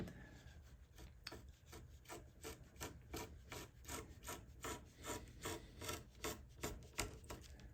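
A hand tool carves wooden guitar top braces in a steady rhythm of close, raspy scraping strokes, about two per second, with no talk.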